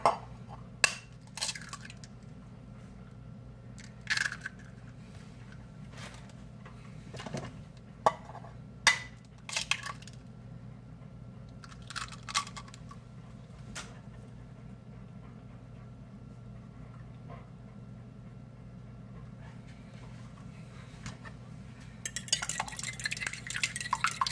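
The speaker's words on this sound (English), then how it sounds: "So whisk the eggs together." Two eggs are beaten in a bowl without a whisk, making faint, irregular clinks and taps of utensil against the bowl, with a short quick run of beating near the end and no talk.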